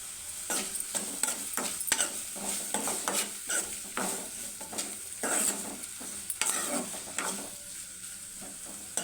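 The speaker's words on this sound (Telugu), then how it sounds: "ఆనియన్స్ అనేవి ఒక 2 మినిట్స్లో మగ్గిపోతాయి." Onions fry with salt in a pan for a prawn tomato curry, a soft sizzle under repeated scraping strokes of a spoon stirring against the pan, an irregular clattering rhythm close by with no talking.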